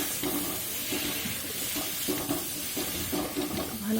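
Carrots and beetroot frying in a pan for a semolina vegetable dish, stirred steadily, with a continuous close sizzle broken by repeated scraping strokes of the spatula.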